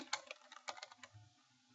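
Quick keystrokes on a computer keyboard, a short burst of close, soft clicks and taps that tapers off into quiet.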